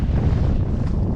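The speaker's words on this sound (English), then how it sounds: "So you could see how windy it was." Strong wind buffeting the microphone aboard a sailboat on a broad reach in windy conditions, a dense, loud, low rumble that fills the whole brief moment with no voices.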